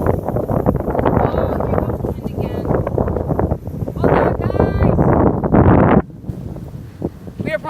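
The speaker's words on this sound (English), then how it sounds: "The wind is really strong" Strong outdoor wind roars and buffets the microphone in loud, continuous gusts, with a person's voice partly audible beneath the rumble.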